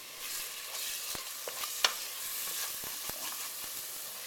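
Chili meat sizzles steadily in a pan, a constant hiss of frying with occasional clicks and light stirring scrapes, fairly quiet and close with no talking.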